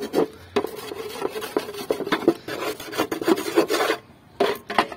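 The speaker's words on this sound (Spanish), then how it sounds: "raspando ya." A portable charcoal grill is scraped by hand to strip paint and rust, giving harsh, rasping strokes in quick repeated bursts, close and loud, with a brief pause near the end.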